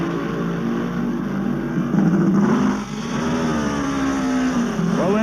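At the start of a TT race, a Honda racing motorcycle engine revs hard as it gets away, a loud, rising mechanical wail with shifting pitch that dips briefly and then climbs sharply again near the end.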